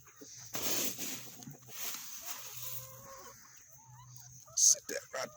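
Backyard chickens cluck and murmur softly at a distance, with scattered movement and rustling and a brief louder squawk near the end.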